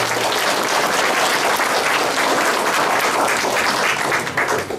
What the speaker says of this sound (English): can everybody join me and give them a round of applause as well?